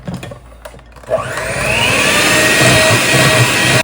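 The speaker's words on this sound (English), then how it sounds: "Then we're gonna take our mixer, we're gonna do it again." An electric mixer beating melted butter, sugars and an egg for peanut butter and jelly cookie dough: after a quiet second the motor whirs up and holds a loud, steady drone.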